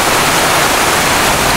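Heavy rain pouring down onto hot concrete streets during a thunderstorm in Kochi, Kerala, a loud, dense, unbroken roar filling the whole moment.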